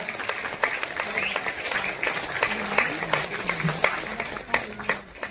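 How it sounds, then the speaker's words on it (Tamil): An event audience gives a guest a round of applause, steady crowd clapping with sharper individual claps standing out, and a voice speaking faintly beneath. "Can we give a big round of applause to him?"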